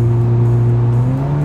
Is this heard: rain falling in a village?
no